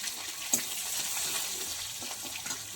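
Crushed garlic sizzles in hot oil with whole cumin for a masoor lentil dal tempering, a soft steady hiss close by with one brief clink early on, fairly quiet and without talk.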